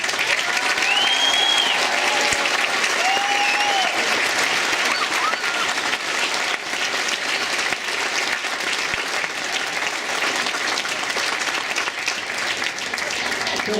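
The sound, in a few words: applause for graduates' families at graduation ceremony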